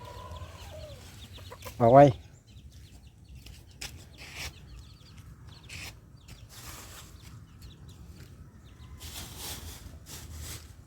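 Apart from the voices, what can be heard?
chickens clucking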